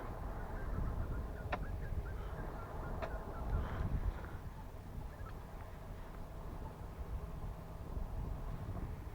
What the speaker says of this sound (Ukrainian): Зараз буде гудіти трактор.